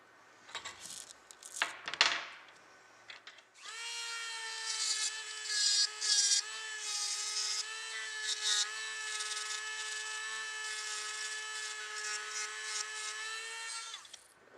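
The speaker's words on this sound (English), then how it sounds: "Okay, back to the Dremel." A Dremel rotary tool with a carbide bit grinding a Kriss Vector folding stock adapter, a high steady whine that wavers as the bit bites the metal, preceded by a few handling clunks.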